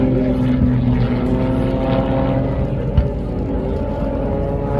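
Aircraft engines drone steadily and loudly at the International Air Show in Radom, 2023, a continuous layered hum that holds throughout with no voices over it.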